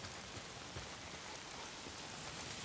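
Steady rain hiss in the video game Days Gone, a dense even patter of drops on surfaces, soft and uninterrupted.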